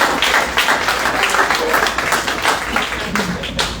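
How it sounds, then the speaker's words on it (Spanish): A church congregation claps together in a dense, steady round of applause that stays loud throughout, with voices mixed in underneath. "Den un aplauso a Él."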